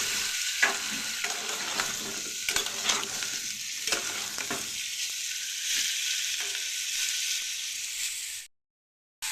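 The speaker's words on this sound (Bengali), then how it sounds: "দিয়ে দিচ্ছি উচ্ছে, সবগুলি একসাথে ভেজে নেব আমি।" Bitter gourd frying in oil in a pan for shukto, with a dense, continuous sizzle and occasional stirring scrapes, close and alone, ending abruptly in silence.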